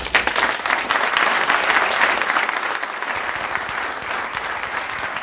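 An audience applauds steadily to welcome speaker Bill Weldon. The dense clapping sounds full and close, dips slightly partway through and keeps going to the end without any speech over it.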